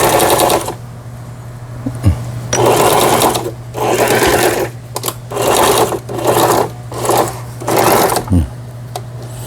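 A household sewing machine under repair, one that supposedly would not sew, whirs loudly and close in about six bursts of running, separated by brief pauses, with no talking.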